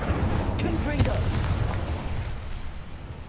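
A Confringo fire-blast spell in Hogwarts Legacy bursts with a dense, rumbling explosion. The low roar sustains for about three seconds and fades slightly at the end.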